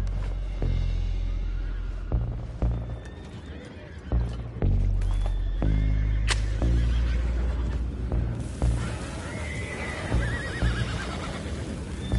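Horses in the video game Red Dead Redemption 2 neigh and whinny loudly over clattering hoofbeats and rumbling movement, with repeated calls across the scene.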